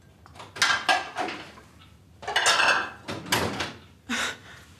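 Ceramic plates clatter and clink as they are taken from a kitchen cupboard, several separate knocks and scrapes in bursts, near and fairly loud, with no one talking.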